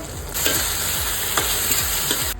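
Ginger garlic paste and coriander stems frying in hot oil in a home kitchen, giving a loud steady sizzle with regular scraping strokes of a spatula stirring the pan, no talking.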